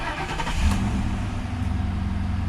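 A Ford Crown Victoria's engine fires up and settles into a steady, loud, close mid-pitched running drone with a faint mechanical hum throughout.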